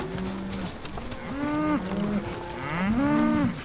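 Cattle on an Australian farm low repeatedly in long, drawn-out moos, several calls overlapping at close range with no voices present.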